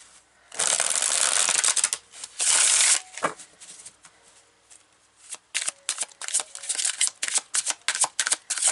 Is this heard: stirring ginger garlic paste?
no